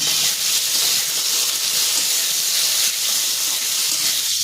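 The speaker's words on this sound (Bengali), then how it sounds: "করলাটা এটাকে একটু ভালো করে ভেজে নেব।" Bitter gourd frying in hot oil in a pan for sukto gives off a loud, steady, hissing sizzle that runs without a break and has no voices over it.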